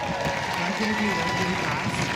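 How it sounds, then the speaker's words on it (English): An audience at a community event claps in a short burst of applause, a dense steady patter heard fairly near, with voices talking over it. "Give her a round of applause, everybody."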